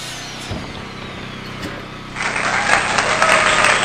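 A power tool cuts wood on an off-grid Alaska homestead build. Loud, steady broadband whine sets in partway through, above a constant background rumble with a few faint knocks before it.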